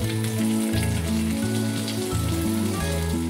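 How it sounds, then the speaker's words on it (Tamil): Onions, tomatoes and curry leaves sautéing in a pan, a steady dense sizzle and crackle running throughout, with a low intermittent hum underneath. "வெங்காயம் நல்லா வதங்கின உடனே தக்காளியும் கருவேப்பிலையும் போட்டு நல்லா வதக்கிக்கலாம்"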